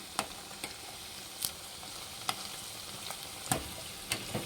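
Battered cauliflower for gobi manchurian, turned over while it fries in hot oil, gives a faint, steady bubbling sizzle broken by scattered sharp pops and crackles.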